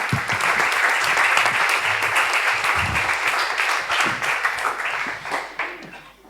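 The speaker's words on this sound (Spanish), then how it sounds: "yo creo que hay que dar un fuerte aplauso para despedir a Felipe y Alberto." Audience at an entrepreneurship and investment event in Ceuta giving a strong round of applause, dense clapping that tapers off over several seconds, with faint voices underneath.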